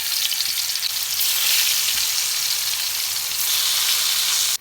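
Tofu and tempeh fry in a pan of hot oil, giving a loud, dense, continuous sizzle and crackle up close, steady throughout before cutting off abruptly at the end.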